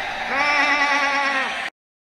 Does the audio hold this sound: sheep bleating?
yes